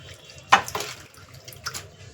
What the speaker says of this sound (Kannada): ಯಾವುದೇ ಸೊಪ್ಪು ತರಲಿ ಮೊದಲು ನೀರಲ್ಲಿ ತೊಳ್ಕೊಂಡೆ ಆಮೇಲೆ ಅಡುಗೆ ಮಾಡಬೇಕು